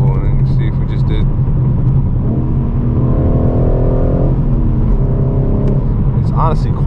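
Steady low rumble from a BMW M4 G82 manual fitted with a full titanium exhaust, valves closed, droning at cruise with a rising harmonic whine midway and a person speaking over it.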